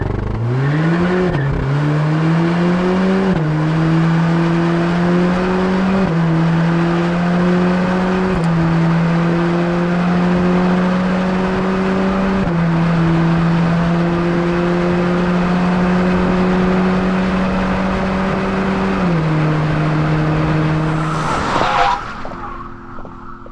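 A Cadillac CT4-V sedan launches hard in an acceleration test. The loud engine note climbs steadily through several quick upshifts, each marked by a brief dip, over a long pull that ends in a sudden burst of noise.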